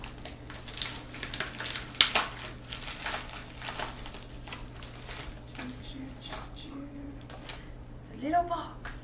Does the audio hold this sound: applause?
no